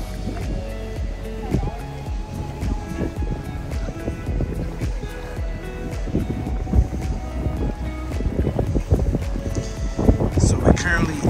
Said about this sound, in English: So we're currently at the Battery, the seawall of Charleston